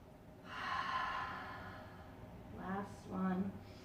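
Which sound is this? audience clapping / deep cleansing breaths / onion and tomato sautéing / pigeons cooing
deep cleansing breaths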